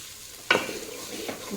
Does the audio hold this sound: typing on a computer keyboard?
no